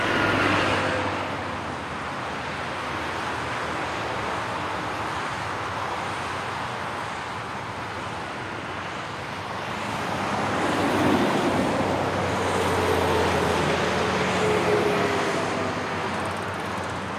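Steady road traffic at a signal-controlled junction near Gmund am Tegernsee, a continuous wash of passing cars that swells louder partway through, with no voices.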